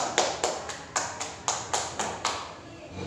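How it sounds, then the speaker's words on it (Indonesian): A class of elementary pupils claps hands together in a steady rhythmic pattern, about eight sharp, evenly spaced claps close by in a classroom lesson, ending with a brief quieter pause. "Tepuk tangan untuk kita semua."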